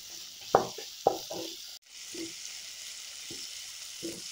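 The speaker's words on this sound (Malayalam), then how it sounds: "ഇനി ഇതെല്ലാം കൂടെ നന്നായിട്ടൊന്ന് വഴറ്റിയെടുക്കുക" Onions with a teaspoon of salt sautéing in a pan for an Idukki-style kappa biryani: a steady soft sizzle throughout, with a few scraping stir knocks early on and quieter spoon strokes later.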